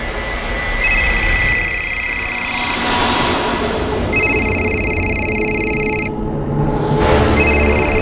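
A telephone rings in repeated long electronic bursts, loud and close, with brief pauses between rings over a steady low background hum.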